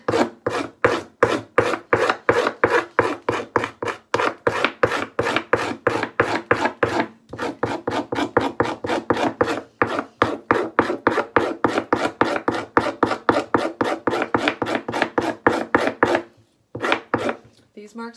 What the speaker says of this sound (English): So now I'm going to go the opposite and scrape this one